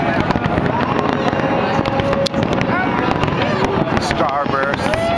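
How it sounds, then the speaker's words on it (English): New Year's Eve fireworks bursting over Sydney Harbour near the bridge, dense crackling and popping explosions with wind buffeting the microphone and boats on the water, while someone speaks over the display. "To the right of the bridge, we see more fireworks going off."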